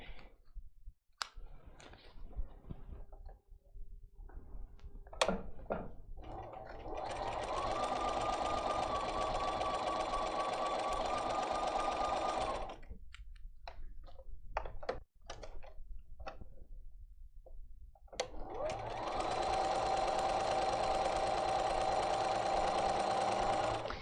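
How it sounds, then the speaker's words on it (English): A sewing machine stitches basting lines on quilt pieces in two long, steady, loud whirring runs, separated and preceded by handling clicks and taps. "we'll get the basting lines sewn on these pieces right here"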